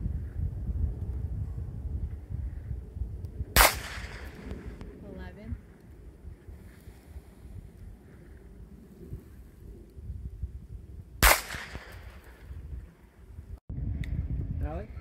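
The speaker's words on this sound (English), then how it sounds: "shooting the middle target on the right post" Two sharp .22 caliber rifle shots, fired several seconds apart at targets on posts in San Bernardino National Forest, each a loud, sudden crack over steady outdoor wind and microphone rumble.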